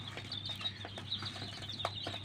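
Sick domestic chickens on a farm make soft, scattered clucks and short calls, faint and close, over a constant low electrical hum.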